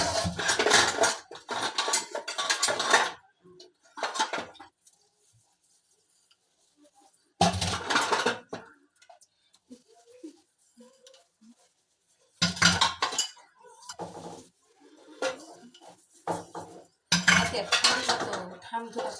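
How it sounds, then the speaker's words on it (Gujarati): Dishes, cutlery and pots washed at a sink, heard as bursts of loud, close clattering and clinking of metal utensils separated by quiet pauses, with a little faint activity in between. "ચાલો બધા વાસણ કરવા બોરિંગ થાય."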